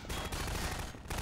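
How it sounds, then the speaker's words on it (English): Rocket launcher firing in Half-Life 2: Episode One, a loud continuous explosive burst of blast and rumble with a brief dip near the end, no talk over it. "Rocket launcher!"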